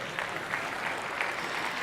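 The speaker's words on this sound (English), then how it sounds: "a little more clapping" Brief, even applause from the audience in a large room at a Microsoft 365 presentation, a soft, steady patter of many hands heard from a distance.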